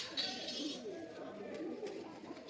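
Pigeons in a loft in Sankrail, Howrah, give soft, low cooing that murmurs steadily under a faint background voice.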